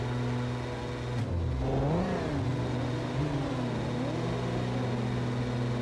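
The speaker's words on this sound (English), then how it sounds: "warming up the rear tires by doing a clutch kick" A Formula Three race car on the grid revs its engine in repeated rising and falling surges during a clutch kick to warm the rear tires, loud and close over steady engine drone.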